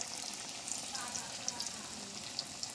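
Mashed-potato chops (aloo chop) frying in hot oil give a soft, steady sizzle with scattered small pops and crackles throughout.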